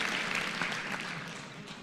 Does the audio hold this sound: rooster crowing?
no